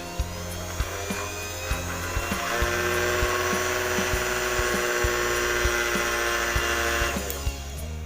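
A blender and an electric fan running together on a small homemade MOSFET inverter that also powers a lamp, giving a steady buzzing motor whine with a tonal hum throughout, swelling louder midway and easing near the end.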